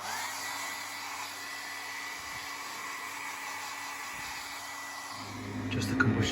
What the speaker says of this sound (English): blast it with a hairdryer.